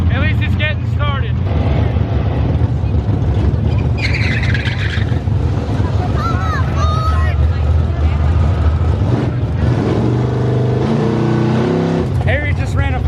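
Cars drag racing at a nitrous drag event, a loud continuous roar of engines with revving surges and a tire screech, people talking over the racket throughout.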